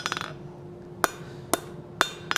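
Hammer striking hot steel on an anvil while forging a wolf head door knocker, a quick bouncing run of light taps followed by four sharp ringing blows at a steady pace, close and loud.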